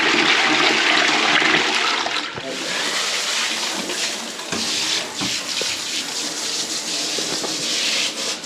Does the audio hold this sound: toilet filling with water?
yes